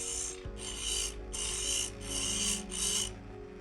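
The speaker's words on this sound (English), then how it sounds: "Then I want to grind a negative rake on top." Steady rasping strokes of a grinder shaping a negative rake on top of a homemade ornament hollowing tool, five long even passes with brief pauses between them, close and fairly quiet.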